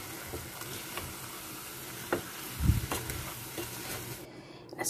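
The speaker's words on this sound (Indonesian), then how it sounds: "aduk lagi sampai rata." A milk mixture is stirred in a pan with the heat off, heard as quiet, occasional spoon scrapes and taps over a low background hiss.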